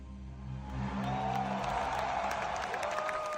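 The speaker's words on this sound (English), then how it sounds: "All the cheering!" Crowd cheering and applause from a played video, a broad steady roar that swells in the first second and holds loud, with a few whoops rising above the clapping.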